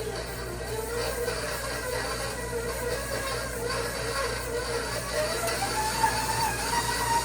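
A stand mixer creams butter and sugar on low speed, giving a steady, close whirring and rattling drone with no breaks.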